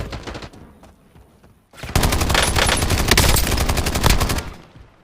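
Rapid automatic gunfire in Call of Duty Warzone: a few scattered shots, a brief lull, then a loud, sustained barrage of dense bursts close up.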